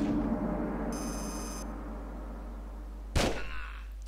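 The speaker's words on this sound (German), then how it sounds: "das war ein Kopfschuss, der sich gewaschen hat" A single Desert Eagle gunshot for a headshot in the video game Tomb Raider 5, one sharp report with a short ringing tail arriving late, following a brief high electronic tone over a steady low game drone.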